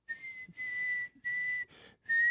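A voice imitates the whistling drone of a room resonance, holding one steady high note in four or five sustained whistled bursts separated by short gaps, close and clear with no talk.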